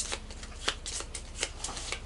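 Riffle of Bardsung initiative cards being shuffled by hand at close range, a soft papery rustle with a few sharper snaps, no voices.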